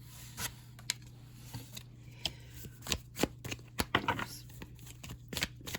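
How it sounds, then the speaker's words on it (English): Tarot and oracle cards being shuffled up close, a run of crisp riffling snaps and flicks in uneven bursts over a low steady hum, with no talk. "I forgot to pull some cards for the advice"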